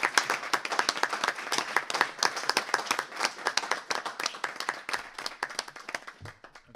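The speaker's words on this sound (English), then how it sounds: "So we'll do an actual clap" A group of people gives a round of applause at a trust board meeting, dense overlapping claps sustained at steady volume before tapering off near the end.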